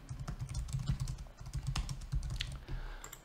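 Someone types on a computer keyboard, producing a quiet, uneven stream of close key clicks and taps with no talking.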